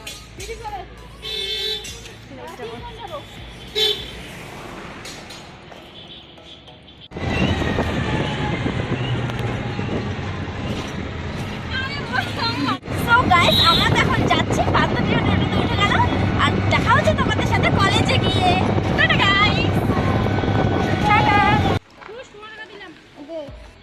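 Ride in a toto (e-rickshaw) through busy street traffic: an engine-like rumble and road noise rise and hold steady, with horns and a voice talking over the din.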